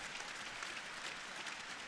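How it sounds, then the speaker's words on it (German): An arena crowd at a gymnastics World Cup apparatus final in Cottbus applauds a ballet school dance group, a faint, distant, continuous wash of clapping heard from afar. "Euer Applaus."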